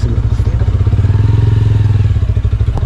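A motorcycle engine idles close by with a steady low throb and rhythmic pulsing, a faint clatter riding over it, with no voices.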